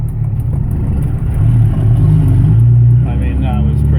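A truck engine idles low and steady after nearly stalling, with a faint rattle and a slight rise in revs midway, while a person talks over it.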